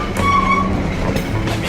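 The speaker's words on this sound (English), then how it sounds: "with darkness falling, the train picks up speed." A train rumbles along the rails through Myanmar at dusk, picking up speed with a steady low roar and a brief squeal of metal near the start, no voices.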